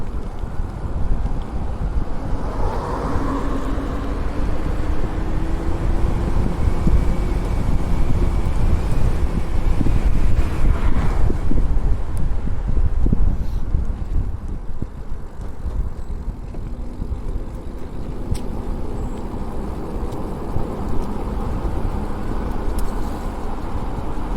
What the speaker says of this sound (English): Pretty breezy out here.